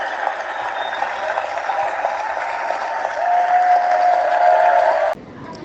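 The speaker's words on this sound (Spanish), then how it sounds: "Un fuerte aplauso para Eva Baroja." An audience claps steadily and fairly loudly for about five seconds to welcome a guest at an interview event, the applause cutting off sharply at the end.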